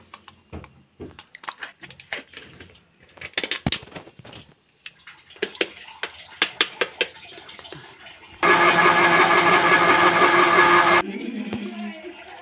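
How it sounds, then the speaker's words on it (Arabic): A Moulinex blender grinds cake batter ingredients such as oil and yogurt in a loud, steady whir lasting a couple of seconds, after earlier clattering and handling noises in a kitchen. "غادي نديرو كلشي في مولينيكس ونطحنوه"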